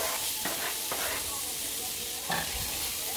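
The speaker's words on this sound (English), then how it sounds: "So I'm gonna put the onion in the pan." Onion sizzling in a hot pan for a buttery lobster sauce, a steady broad hiss with a few brief clinks and stirring scrapes, fairly quiet and continuous throughout.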